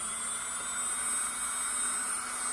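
An I Gel Beauty nail e-file drill runs steadily at 15,000 RPM, making a constant, even electric whine and hum throughout with no pauses.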